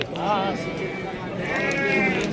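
Sheep bleat loudly twice at a livestock market, wavering calls close by with a murmur of other farm noise and voices in the background.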